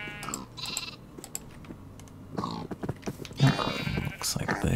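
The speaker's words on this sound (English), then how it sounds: "let's see what the sheep think" Sheep bleat in Minecraft, a few short nasal calls mixed with keyboard clicks and other game sounds while a person talks throughout.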